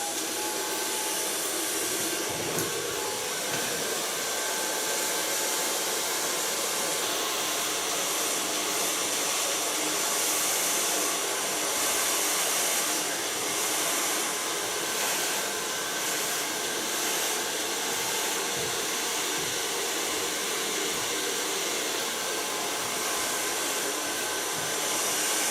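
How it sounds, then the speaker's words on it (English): A blow dryer runs continuously and loud at close range, drying short hair worked with a nail brush in a salon, a steady whooshing roar lasting the whole stretch with slight shifts in airflow and no speech. "Gonna work with a nail brush and of course a blow dryer."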